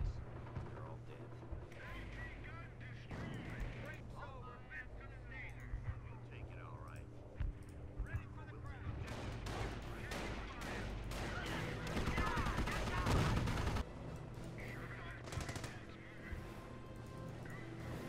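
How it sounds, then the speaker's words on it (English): Mortar fire and explosions in the Company of Heroes Normandy campaign: a dense, sustained barrage of blasts and gunfire with a louder burst near the end, under quiet voices. "What hit us? Mortars, right."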